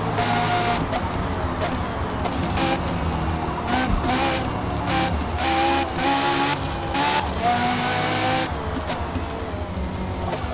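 A race car in Forza Motorsport 4 drives hard, engine revving steadily with gear changes and tire noise, loud and continuous without talk.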